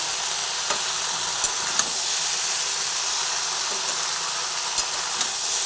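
Okra (bhindi) frying in a pan with a constant close sizzle, broken by several soft clicks and taps of a spatula turning the pieces.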